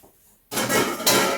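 Soaked, strained 18-bean mix tumbles into a soup pot with a sudden close rattling clatter, then a second burst of beans pouring against the metal, no talking.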